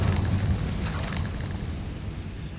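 Incendio fire spell blast in Hogwarts Legacy on PS5, a muffled, moderately quiet booming burst with a rumbling low tail that settles gradually.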